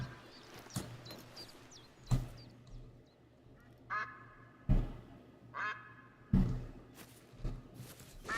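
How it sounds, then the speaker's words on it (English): Ducks in the hunting game theHunter: Call of the Wild, quacking in repeated short bursts at intervals, moderately near, over a quiet outdoor background with no talk. "Sounds like there's ducks somewhere around here as well."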